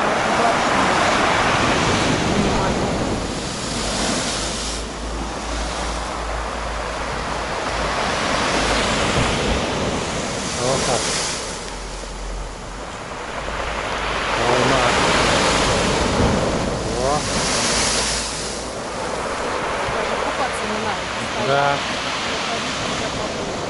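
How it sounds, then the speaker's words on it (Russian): Stormy sea waves crash onto Flamingo beach at Lazarevskoye in repeated loud surges, each breaker roaring in then easing off, with strong wind buffeting the microphone and voices talking over the surf. "Так, ну что, насладимся еще минутками вот этой волны."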